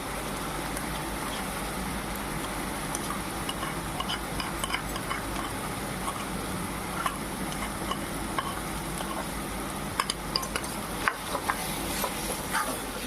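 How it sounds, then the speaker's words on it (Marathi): Ground masala paste stirred and frying in a pan for a spicy mutton curry: a steady, moderate sizzle throughout, with scattered scrapes and clinks of the spoon against the pan, no talking. "तर आपण वाटण छान परतून घ्यायचं आहे"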